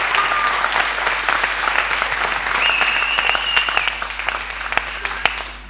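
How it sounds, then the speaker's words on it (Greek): A live comedy show audience in a theatre breaks into loud, sustained applause, a full, close roar of many clapping hands that thins slightly toward the end, with a faint whistle-like tone briefly riding over it. "Ένα χειροκρότημα, ρε παιδιά, στον άνθρωπο."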